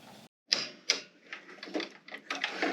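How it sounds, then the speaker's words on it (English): A sewing machine stitches down the sides and bottom of a clear see-through zipper pouch, with sharp clacking starts followed by a quieter, irregular, rapid mechanical chatter close up. "I'm going to sew down the sides and across the bottom"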